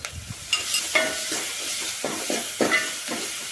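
Onions cook in a pan with a steady sizzle, while a spoon scrapes and stirs through them in repeated short strokes, close and fairly quiet.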